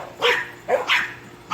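Household dogs and a neighbor's dog keep barking in sharp, fairly close bursts, about four barks spaced unevenly with brief gaps between them and nobody speaking.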